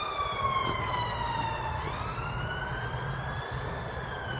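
An emergency vehicle siren wails in the distance, its pitch sliding down and back up over a quiet outdoor allotment background, clear but far off.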